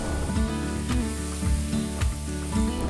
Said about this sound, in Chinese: 黑布丁要煎到2面焦脆，还要加黄油，因为后面下的就是口蘑了